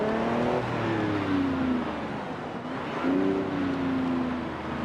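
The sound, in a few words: Lamborghini Revuelto driving in reverse in Forza Horizon 5 video game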